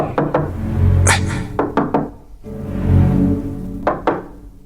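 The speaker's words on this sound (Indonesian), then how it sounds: "terdengar suara pintu diketuk" Knocking on a door in a ghost-story radio drama: two loud, close bursts of several quick raps, separated by low rumbling ambience.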